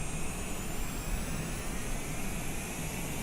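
Cirrus Vision Jet cabin on an instrument flight from Salt Lake City to Jackson Hole, a steady broadband jet engine hiss and hum, even and unbroken, with no voices.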